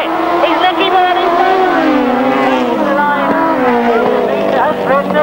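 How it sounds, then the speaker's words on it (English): 1000cc sidecar motorcycles race hard through the final bend, their engines screaming loud and close with shifting, rising and falling pitch, and a commentator talks excitedly over them. "an absolutely tremendous 1000cc sidecar race"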